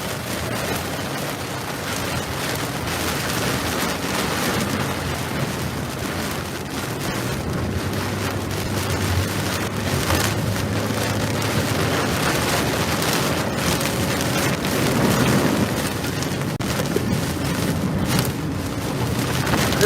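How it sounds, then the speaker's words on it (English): Heavy rain pours during a storm chase in Oklahoma under a tornado watch, a dense continuous roar mixed with wind buffeting the microphone and vehicle rumble, steady and loud throughout. "Gonna get some heavy, really heavy rain and then it'll let up."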